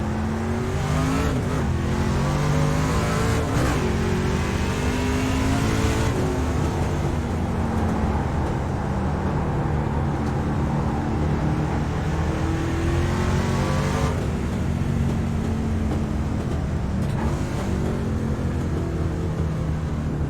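Racing truck engines drone and rev continuously in a sim racing game, with several trucks lined up at Thompson, loud and steady as pitch sweeps rise and fall throughout.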